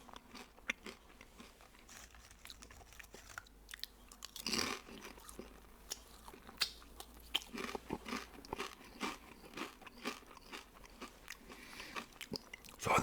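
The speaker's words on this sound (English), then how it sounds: "These barbecue chips are delicious." Crunchy barbecue potato chips being bitten and chewed close up, a steady series of crisp crunches and mouth sounds over quiet background, no talking.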